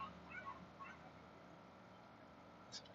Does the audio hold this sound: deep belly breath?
no